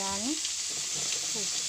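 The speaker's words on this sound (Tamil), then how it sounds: "தக்காளி கொத்தி நம்ம நல்லா வதங்கட்டும்." Tomato chutney sautés in a pan with a steady, close sizzling hiss, while a voice speaks briefly at the start and again near the end.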